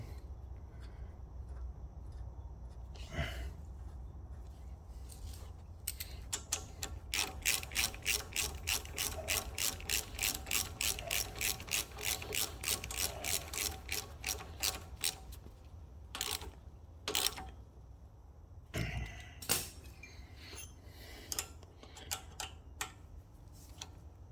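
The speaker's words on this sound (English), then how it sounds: "I'll just use these nuts to tighten it up." Ratchet wrench tightening nuts on a Kohler Courage engine of a Craftsman mower, with a long run of rapid even clicks in bursts, then a few scattered clicks, close but fairly quiet.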